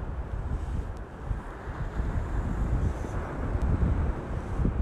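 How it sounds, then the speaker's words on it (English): Wind buffeting the microphone at Brigantine beach, a steady low rumbling roar with gusting swells and faint surf underneath, continuous and fairly quiet with no talking. "It is a little bit windy and cold"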